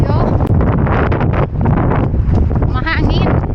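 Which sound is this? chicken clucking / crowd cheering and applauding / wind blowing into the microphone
wind blowing into the microphone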